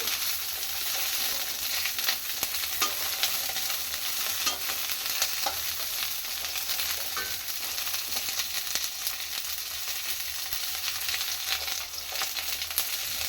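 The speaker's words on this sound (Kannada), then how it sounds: "ಈ ಥರ ಹುರ್ಕೊಳ್ಳೋದ್ರಿಂದ ಪಲ್ಯ ಬೇಗ ಬೇಯುತ್ತೆ ಅಂತ ಹುರ್ಕೋಬೇಕು ಅಷ್ಟೇ" Stuffed donnagayi chilies roast in a pan for a North Karnataka curry, a steady dense sizzle with scattered stirring scrapes and ticks, continuous and close throughout.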